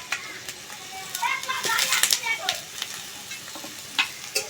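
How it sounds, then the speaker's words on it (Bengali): Diced potatoes, onion and garlic sizzle in a pan while a spoon stirs them, a steady crackling fry with scraping bursts and clatter, loud and close, with faint background voices. "আলু, পেঁয়াজ, রসুন খুব ভালো করে নেড়ে চেড়ে কষিয়ে কষিয়ে ভেজে নেব।"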